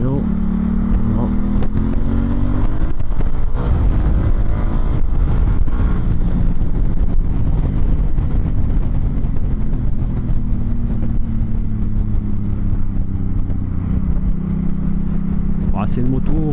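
A Honda Africa Twin with a DCT gearbox rides on the road, its engine droning steadily. Engine pitch rises and falls smoothly, wind buffets the microphone, and the rider talks over the noise.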